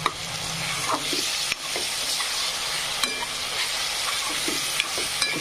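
Sprouted usal goes into a tomato and masala gravy frying in a pan, giving a steady close sizzle with intermittent stirring scrapes and light knocks throughout.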